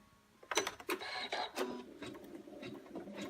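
A sewing machine stitches through thick folded fabric, giving a quick burst of clattering needle strokes that slows into softer mechanical whirring. A voice murmurs faintly underneath.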